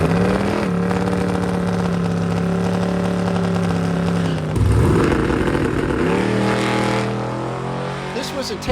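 Race car on a racetrack during a test and tune session, engine droning steadily, then a sharp gear change and a fresh rising acceleration, fading slightly toward the end.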